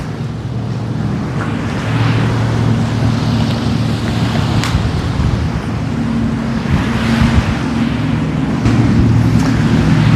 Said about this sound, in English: I could put the microphone out by the water so you guys can hear those waves